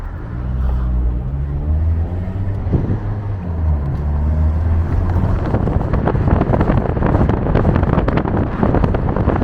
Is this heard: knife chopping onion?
no